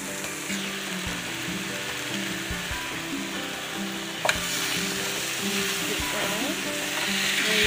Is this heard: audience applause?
no